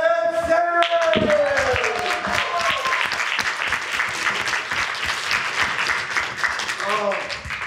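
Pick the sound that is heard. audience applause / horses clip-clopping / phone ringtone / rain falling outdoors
audience applause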